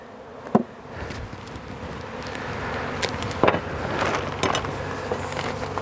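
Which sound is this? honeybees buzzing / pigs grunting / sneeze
honeybees buzzing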